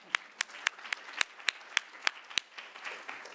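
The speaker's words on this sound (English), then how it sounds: "So a round of applause to you too." Clapping at a Three Minute Thesis competition: sharp, evenly spaced claps in a steady beat, about four per second, close by and distinct rather than a dense crowd roar. The claps blur into softer, scattered clapping at the end.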